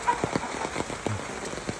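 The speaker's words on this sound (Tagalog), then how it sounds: "Yan, lakas ng ulan." Steady heavy rain patters close by, with a dense hiss and irregular sharper drops striking a surface throughout.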